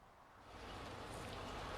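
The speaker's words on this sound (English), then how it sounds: "not get wet from the last drops of rain" Last drops of rain falling outside under a roof line in a Tampa, Florida garden, a soft steady patter that swells slightly and holds at a low, even level with no talk.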